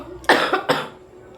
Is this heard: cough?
yes